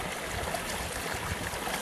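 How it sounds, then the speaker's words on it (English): Katadyn water filter pump drawing water beside a river, a steady wash of flowing, trickling water with soft gulping pump strokes blended into it, close and continuous. "It's like a gulp of water with every pump."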